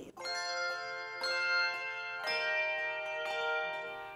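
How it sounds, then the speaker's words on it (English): Handbells from a handbell choir ring out in four clear, evenly spaced strikes, each chord of bright metallic tones sustaining and blending into the next before slowly fading, close and alone. "Then there are 3 handbell choirs."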